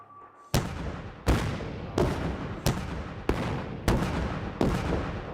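Seven heavy artillery blasts for avalanche control boom across a snowy highway in southern Colorado, fired at a steady pace under a second apart. Each is loud and sharp and trails off into a long rumbling echo.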